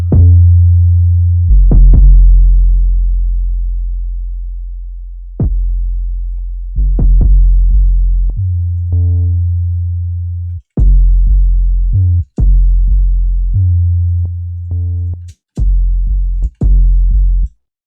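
Heavy, distorted 808 bass notes play alone in a repeating pattern, each booming sustained hit gritty and loud, with brief gaps between phrases.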